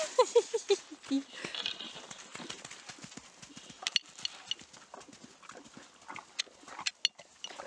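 A pony's hooves clip-clop on the ground in scattered, uneven light knocks, fairly close, after a short run of high yelping calls at the start, with faint background chatter.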